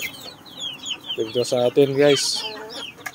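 Native chickens cluck around a papaya feed, several short harmonic clucks and calls close by, with someone speaking over them and birds chirping in the background.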